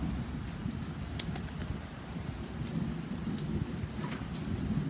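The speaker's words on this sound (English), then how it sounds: "Rain." Steady rain pours continuously, a dense low rumble of drops with a faint distant crack or two, and no voices.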